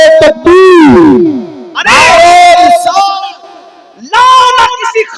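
A large crowd at a religious speech gathering roars the takbir slogan in unison, loud echoing shouts in several surges separated by brief pauses, with a lone voice leading between the crowd's responses.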